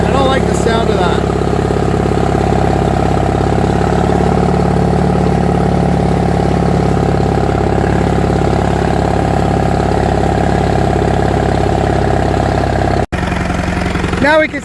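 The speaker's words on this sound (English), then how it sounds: "Second gear with the engine revved up. This thing is loud too." A 1959 International Harvester B275 tractor engine, running rough and popping back into the air cleaner, roars loud and steady while revved in second gear, with a brief cutout near the end.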